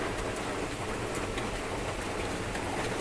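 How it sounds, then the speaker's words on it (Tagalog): Steady, heavy rain pouring down, a dense continuous hiss of drops drumming on surfaces with no pauses. "Sobrang lakas kasi ng ulan, magdamag halos"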